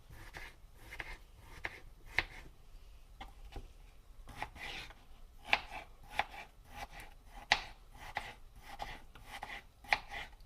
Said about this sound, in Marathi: तुमचा कांदा शिजेपर्यंत हे छान बटाटे तुमचे कापून होतात